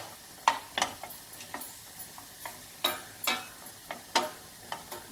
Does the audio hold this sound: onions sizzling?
yes